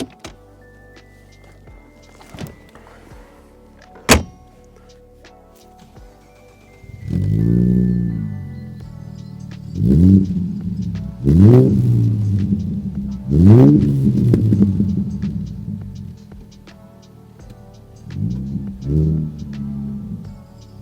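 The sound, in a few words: Morgan Roadster V6 3.7L engine starting and driving, modified exhaust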